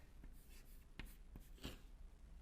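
Chalk or marker writing an equation on a lecture board, a few quick close strokes and taps in a quiet room with no talk.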